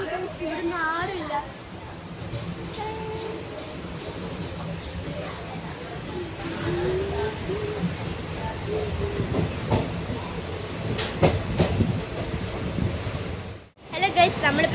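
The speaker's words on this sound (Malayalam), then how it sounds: "ട്രെയിനാണ്" A train rolls along its rails on a family trip to Kanyakumari, making a continuous rumble with rhythmic clacks and sharper knocks toward the end, while people talk over it.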